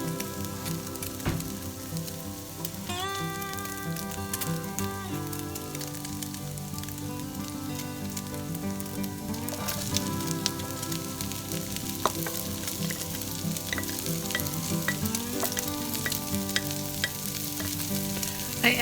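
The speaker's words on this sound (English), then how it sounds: "I decided to add the onion to the fry pan and fry it up" Onion and bacon sizzle and crackle steadily in a frying pan, a continuous close, moderately loud fry with occasional pops throughout, no voices.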